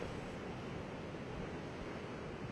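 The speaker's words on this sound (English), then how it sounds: "Gentle breeze with the sound of waves splashing over the sands" Waves washing over a sandy beach at Kovalam in Kerala in a gentle breeze, a steady, even roar of surf and wind with no voices.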